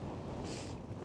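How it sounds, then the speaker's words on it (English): Strong wind buffets the microphone on an exposed hilltop, a dense continuous roar with a brief gusty surge in the middle, loud and close throughout with no voices. "it's so windy up here"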